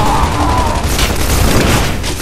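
Grenade blasts and gunfire in the video game Gears of War 3, a loud, dense burst of explosive booms and rapid shots filling the whole stretch with no pause.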